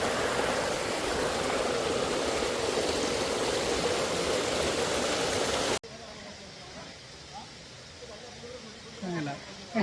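Water crashing at Kumbhidhar waterfall in Boudh, a loud, dense, steady roar that fills the first half and then cuts off abruptly, giving way to quieter outdoor ambience with faint scattered sounds.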